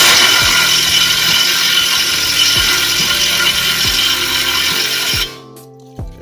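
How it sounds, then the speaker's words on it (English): An impact wrench hammers on a lower control arm bolt of a Ford Fiesta, a loud continuous rattling burst with regular sharp knocks that stops abruptly near the end. "use my impact to just basically turn it"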